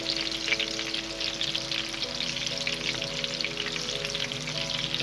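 Chicken gola kebabs frying in a pan over low to medium flame, a steady close sizzle with crackling oil and no voices.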